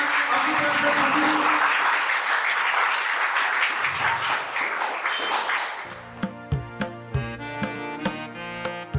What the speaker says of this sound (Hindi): एक बार जोरदार तालियां बजाकर आपकी तरफ से सभी